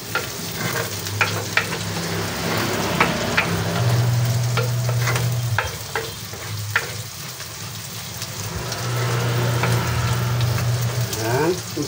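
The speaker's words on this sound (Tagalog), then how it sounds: "Hintayin po natin na medyo mag-brown yung ating squid balls at yung ating chicken balls." Squid balls and chicken balls frying with vegetables, a loud continuous sizzle broken by intermittent stirring scrapes and clatters, a low hum beneath.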